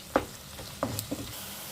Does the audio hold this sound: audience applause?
no